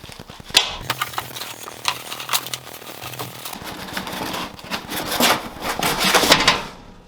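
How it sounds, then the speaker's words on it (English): A glass panel on an Alesis VI49 keyboard rattles and knocks against the frame it sits on during unboxing, giving a series of close clacks and clatters mixed with handling and packaging noise. "it turns out that sound was just the glass hitting the frame it sits on"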